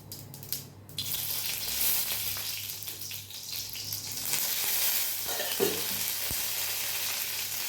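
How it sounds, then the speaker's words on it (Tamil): Curry leaves and a single dried red chilli, added after mustard seeds, sizzle and crackle in hot ghee for a South Indian tempering. The frying is loud, steady and close, with a few sharper pops and no talking. "கடுகு நல்லா பொரிஞ்சதுக்கப்புறம் கருவேப்பிலை நம்ம வந்து ஒரே ஒரு வரமிளகா போட்டுக்கலாம்"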